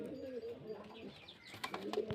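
Soft, low pigeon coos sound close by at a pigeon loft in Beldanga, Murshidabad, for a couple of seconds, with a few sharper chirps and clicks near the end.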